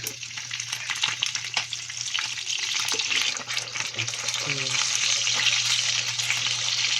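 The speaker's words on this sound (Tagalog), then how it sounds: "Niliprito ko muna guys yung isda na yellow" Yellow fish seasoned with salt and pepper fries in a pan, a dense, steady close-up sizzle and crackle that swells slightly toward the end.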